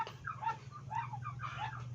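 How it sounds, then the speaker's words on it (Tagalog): Muscovy ducks on a backyard farm give repeated soft hissing, chattering calls, several overlapping bursts, faint against a steady low hum. "Maingay mga papadax."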